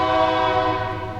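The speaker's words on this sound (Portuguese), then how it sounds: "perdão pelo trem apitando" A train horn blows a sustained, loud, harmonic-rich tone that holds steady and begins to fade slightly, heard alone without speech.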